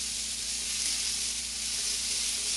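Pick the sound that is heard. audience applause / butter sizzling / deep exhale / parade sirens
butter sizzling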